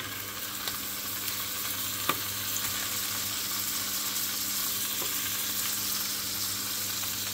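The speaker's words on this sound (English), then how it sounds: "now I'm getting ready to make the eggs" Eggs fry in butter in a pan on a stove, giving a constant close crackle and sizzle with a few small pops and light clinks over it.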